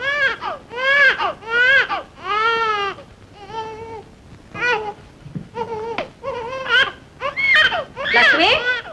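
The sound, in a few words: baby crying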